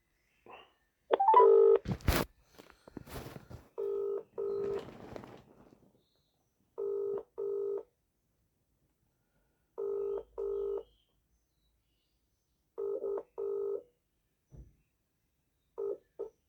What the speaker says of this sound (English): Just ringing up Christopher Browell.